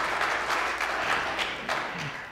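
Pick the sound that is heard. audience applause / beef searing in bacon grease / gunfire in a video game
audience applause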